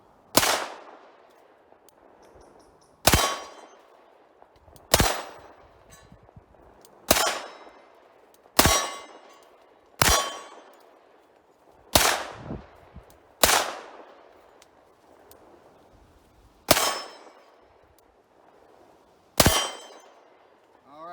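Shots from an EAA Witness or Sig P220 pistol ringing off a steel swinger target, about ten loud cracks each followed by a metallic clang and decaying ring, spaced roughly two seconds apart.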